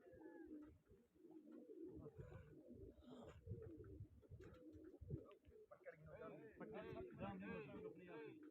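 Pigeons coo in low, repeated throaty calls at a pigeon-flying contest, heard close and faint with overlapping rhythmic coos, while people talk over them.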